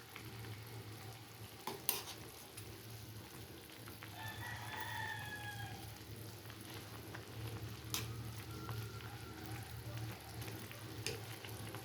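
A pot of pork rib sinigang being stirred gives a soft scraping and bubbling over a steady low hum, with a rooster crowing briefly in the background.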